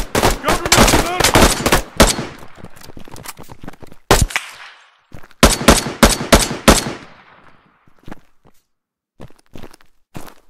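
Close, loud bursts of automatic gunfire come in rapid strings separated by short pauses during a firefight in the video game PMC, with a few single shots near the end.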